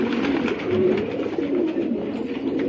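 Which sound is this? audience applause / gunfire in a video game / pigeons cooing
pigeons cooing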